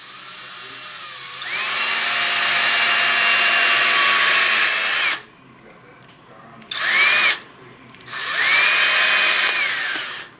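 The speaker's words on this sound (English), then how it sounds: "You're gonna cut it with a drill." A power drill whines loudly while cutting through a rope, running in a long sustained burst, then a short one, then another long run, with brief quiet gaps between.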